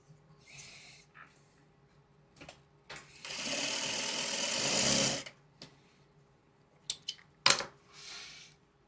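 A sewing machine stitches fabric in one steady whirring run of about two seconds, framed by quiet handling noises and small clicks in a calm room.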